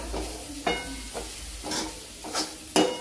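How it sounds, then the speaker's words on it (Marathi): Coriander leaves being stirred into a spicy capsicum masala in a pan, several scraping strokes at a slow uneven rhythm over a low sizzle, close and moderately quiet, with no talk. "कोथिंबीर टाकल्यानंतर याला छान मिक्स करून घ्यायची या मसाल्यामध्ये"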